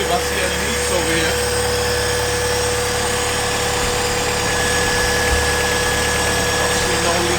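A modified Honda Civic EG engine idles after being started, a continuous close mechanical drone with a steady hum and light rattles throughout.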